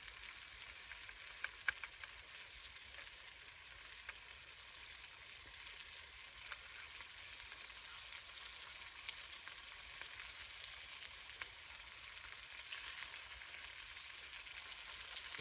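Bacon fries in a pan at a solo hammock campsite, giving a steady, soft hiss and crackle with a few scattered pops over the whole stretch. No one talks.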